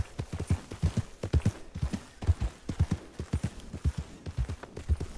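Horse hooves clip-clopping on the ground in the video game Red Dead Redemption, a steady, fairly close rhythm of hoofbeats running continuously throughout with no talk.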